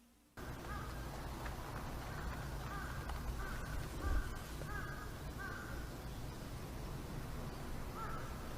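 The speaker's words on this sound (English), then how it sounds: "Now the crows are going to be screaming again?" Crows caw repeatedly in the Umamusume video game, faint calls spread over a steady dense background hiss.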